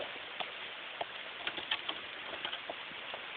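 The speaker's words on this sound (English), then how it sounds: "It's raining, it's pouring." Rain falls outdoors as a soft, steady hiss dotted with scattered sharp patters of drops. It is faint and continuous, with no voices.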